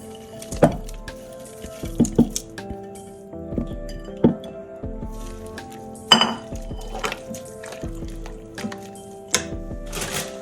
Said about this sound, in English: I'm gonna add in our broccoli and carrots